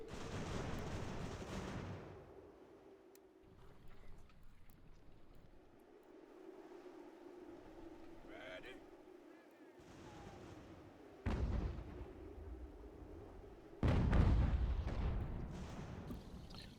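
Cannon fire booms in an American Revolution strategy game, with a few heavy blasts spaced apart over a steady background rumble, the loudest near the end, with no talk.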